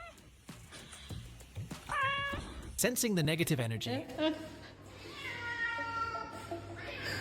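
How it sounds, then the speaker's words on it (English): A house cat meows loudly and repeatedly in drawn-out, rising cries, close by, between and over a person's speech. "Your cat's trying to attack me!"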